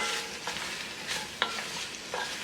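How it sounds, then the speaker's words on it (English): Salted pigtail stirred with onion and garlic in a pot, a soft continuous sizzle broken by several scraping spoon strokes and one sharper clink near the middle. "go back in now with that salted pigtail and give it a good stir to bring everything together"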